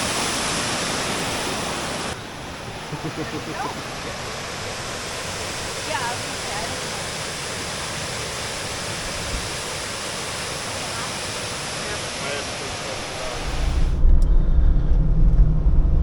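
Steady roar of a waterfall, broadband rushing water filling the whole clip, with a louder low rumble toward the end as if closer or windier.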